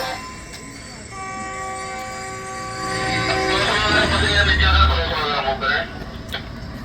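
Bahauddin Zakariya Express pulling out of Samasata Junction after an eight-minute stop, a sustained horn tone giving way to building rumble and rolling wheel noise nearby.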